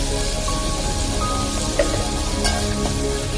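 Onions sauté with a little salt in a pan for mutton soup, making a dense, even crackling sizzle close by, with a few faint clicks of a utensil.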